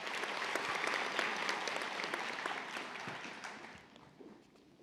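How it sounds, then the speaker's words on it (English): Sustained applause fills a convocation hall for a newly hooded nursing doctoral graduate, a steady wash of many hands clapping at moderate volume that tapers off near the end. "Let's give another round of applause for Dr."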